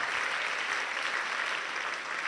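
Steady applause from an audience at a school quiz finale, greeting a student called up to give the opening prayer; dense, even clapping fills the whole stretch without breaks or voices.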